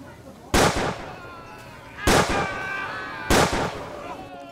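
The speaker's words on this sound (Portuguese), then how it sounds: "Que tiro é esse aí?" Three loud, sharp gunshot-like blasts roughly a second and a half apart in GTA V, each with a short ringing tail over low background game noise.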